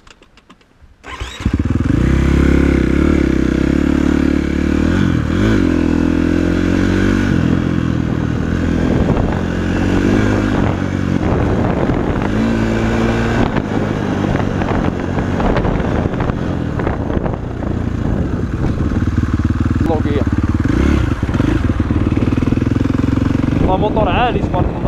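A KTM 450 SXF motorcycle engine runs loud and close for the whole stretch, holding a strong steady drone with rises and falls in revs, buffeted by wind noise on the microphone.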